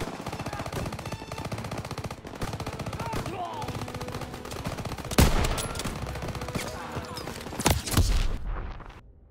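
Sustained rapid machine gun fire from the video game Call of Duty: WWII, D-Day mission, rattles on continuously, with heavier blasts and bursts mixed in, dense and loud throughout, like a battle scene.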